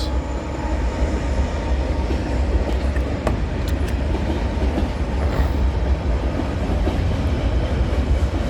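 A CN freight train of boxcars and lumber cars rolls past nearby, its wheels producing a continuous rumble and rhythmic clickety-clack over the rails.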